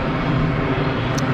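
An easyJet airliner roars steadily on its takeoff roll at Geneva Airport, a broad continuous jet-engine rush heard alone at close range.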